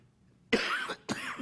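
Two sharp, harsh coughs close to the microphone during a board of education meeting, the second following shortly after the first, preceded by a quiet pause.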